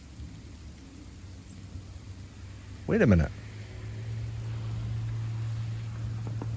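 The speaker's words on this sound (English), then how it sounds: "So I'll leave you with the sound of the sleet falling and freezing rain, snow mixture." A mix of sleet, freezing rain and snow falls steadily outdoors during a winter ice storm, making a continuous hiss. A brief louder rumble passes midway, and someone speaks briefly over it.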